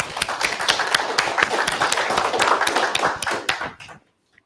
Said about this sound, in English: So I'd like to give a round of applause to them for their first efforts